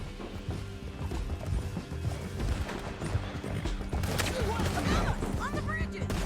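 Horse hooves clop in a steady galloping rhythm in the Red Dead Redemption 2 video game, amid game music and effects, with voices talking and a whinny-like cry near the end.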